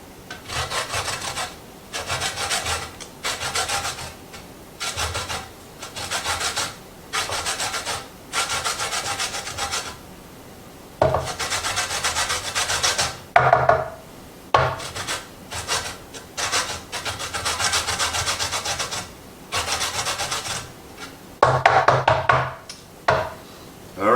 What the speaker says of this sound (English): Alright, well that's how you zest a lemon.